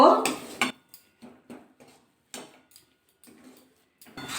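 A spoon stirs green pea kachori filling seasoned with salt, turmeric and sugar in a pan, beginning with a loud clattering burst, then a series of separate short scrapes and taps against the metal at close range.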